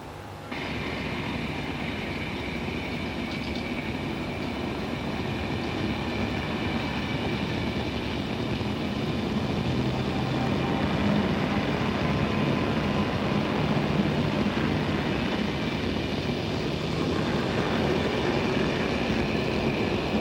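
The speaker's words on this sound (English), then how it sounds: "local trains coming and going" A local train rumbles past steadily for the whole stretch near Locarno, loud and close, with a continuous rolling roar and faint rail clatter.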